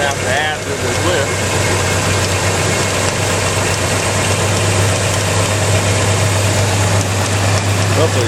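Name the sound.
engine running on wrecked 1987 Chevrolet S10 truck, wobbly pulley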